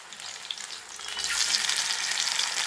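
Vanjaram fish frying in a pan over a medium flame, a steady close sizzle that swells louder and brighter partway through, with no talking.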